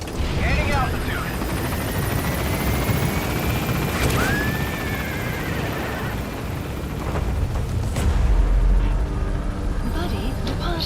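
A helicopter lifts off and climbs in the video game Metal Gear Solid V: The Phantom Pain, a loud, steady rotor and engine roar that fills the whole stretch, with a rising whine partway through.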